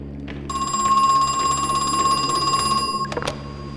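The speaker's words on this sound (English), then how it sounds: "Oh, for goodness sakes, another phone" A telephone rings in the horror game Crow Country, a loud, steady electronic bell tone held for about two and a half seconds, bracketed by brief clicks and thumps, with no talk.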